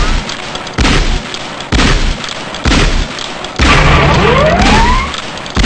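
Shotgun blasts at a firing range in the Gunman Chronicles video game, four loud, heavy booms spaced about a second apart, followed by a longer rumbling blast with a rising whine.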